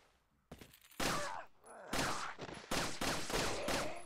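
Rapid bursts of gunfire from the video game Resident Evil 4, loud and close, firing in several sharp volleys with brief gaps between them.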